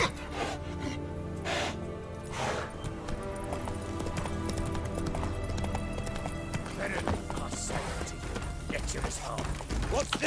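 Hooves clip-clop as a horse trots in The Witcher 3, with a steady rhythm under music and game ambience.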